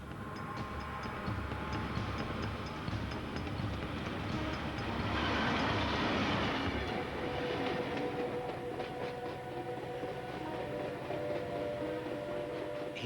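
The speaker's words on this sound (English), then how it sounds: "the train leaves Parramatta Station with 469 passengers on board" Passenger train pulling out of Parramatta Station, a steady loud rolling rumble of wheels on rails with a rising surge of grinding noise mid-clip, continuous throughout with no talk.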